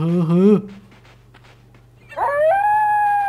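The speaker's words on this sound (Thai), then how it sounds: "โอ้หมาป่าเห่าเหรอ" A wolf in the survival game Survivalcraft gives a wavering howl, then a second rising howl after a quiet gap, both loud and close.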